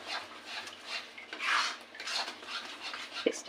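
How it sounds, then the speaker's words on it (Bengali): A spoon scrapes and stirs a salted spice paste in a bowl, a soft repeated rasping and rubbing with one small clink near the end, quiet and close. "পেস্টটাকে নাড়াতে থাকবো।"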